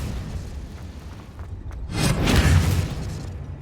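A Confringo fire spell bursts in Hogwarts Legacy, a swelling whooshing boom that rises after a brief quiet and rolls out over about a second, loud and close with no talking.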